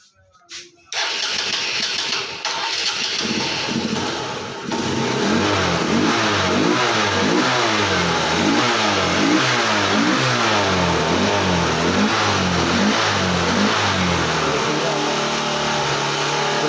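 A motorcycle engine just after its carburetor was cleaned cranks and fires up close by, then settles into a loud, throbbing run with rhythmic rises and falls in revs, with no talk over it.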